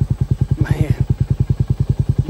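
LS MRT 3560A tiller running behind a small 22 horsepower tractor while preparing a food plot, a fast regular mechanical thumping beat, loud and close, with a brief faint higher squeal in the middle.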